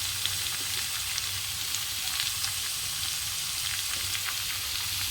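Beetroot sautéing in a pan gives a steady, even sizzle with faint crackles throughout, close and moderately loud, with no voices.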